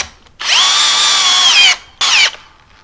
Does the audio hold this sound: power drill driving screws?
yes